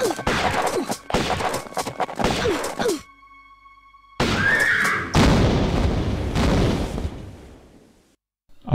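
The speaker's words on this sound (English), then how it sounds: "I think the shotgun might be appropriate" Close-range shotgun blasts in Tomb Raider: a few loud, sharp bursts early on, then a pause with a droning tone, followed by heavier booming impacts that fade to quiet.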